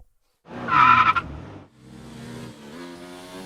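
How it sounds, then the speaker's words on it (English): A Mercedes W10 Formula 1 car on a lap of the Hockenheimring in Germany, one loud close engine burst rising in pitch and then fading into a steadier, more distant harmonic drone as it pulls away. "here's lap attack at the Hockenheim Ring with the Mercedes W10"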